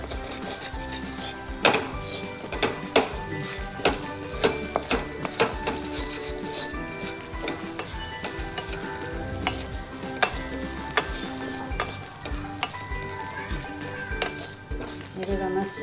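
Almond crumbs roast in ghee in a pan for almond sheera, with a continuous crackling sizzle broken by frequent sharp scrapes and clinks of a spoon stirring against the metal.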